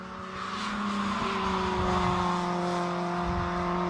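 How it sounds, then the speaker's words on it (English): A roughly 700-horsepower Ford Escort Cross race car at Anglesey circuit roars at sustained high revs, its engine note shifting pitch as it powers along, loud and continuous without any talk. "There is Dave Cockell, flames spitting out the side of this incredibly powerful and incredibly fast Ford Escort Cross"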